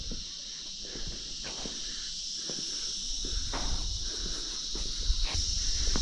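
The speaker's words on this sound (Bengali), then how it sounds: "ঝিঝি পোকার আওয়াজ" Crickets chirp at night in the jungle near Sittong in the Darjeeling hills, a steady high drone throughout, with soft nearby thumps and rustles like footsteps underneath and no talking.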